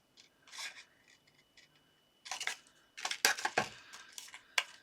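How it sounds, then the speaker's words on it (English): Scissors trimming a paper card element, several close, crisp snips and slicing swishes, sparse at first and then coming in a quicker cluster of cuts, with no voices. "Let me just trim that off."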